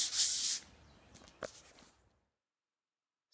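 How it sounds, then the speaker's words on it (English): The body of a Datsun 280Z is wet sanded by hand, with one short, close rasp of rubbing followed by a few faint scrapes before it falls silent. "So the wet sanding's coming along pretty good."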